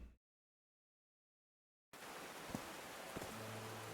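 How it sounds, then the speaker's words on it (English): Steady rain falls in the video game Call of the Seas, a dense, even hiss that starts abruptly after a stretch of silence and carries on with a few faint drip-like ticks. "Oh, the rain is really good in this."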